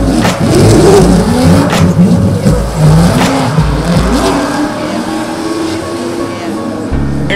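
A 900-horsepower drift car driven by Fanga Dan revs hard at Bay Park, its engine climbing and falling in repeated loud pulls over a steady roar, with a voice talking over it.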